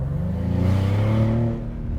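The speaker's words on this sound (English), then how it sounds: "Corsa, which means race in Italian, not only turns up the exhaust note" Exhaust note of a 2024 Maserati GranCabrio in Corsa mode, a deep steady rumble with slight rises in pitch as the engine pulls, close and loud with no talk.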